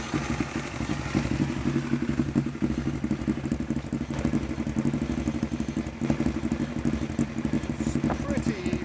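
A Honda CB500T race motorcycle idling steadily nearby, with an even low throb and a light mechanical clatter running throughout; someone speaks over the engine.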